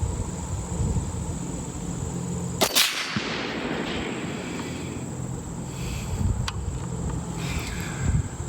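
A single sharp SAI M1A rifle shot fired outdoors at a 300-yard target, a loud crack followed by a brief ringing tail over steady wind and background noise.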